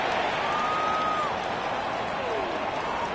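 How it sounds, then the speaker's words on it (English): Stadium crowd in the Madden 26 football video game, a steady dense roar of cheering and shouting that fills the whole stretch evenly at a moderate distance, with a faint whistle-like tone gliding through. "Plenty of shouts from this crowd as they watch the replay."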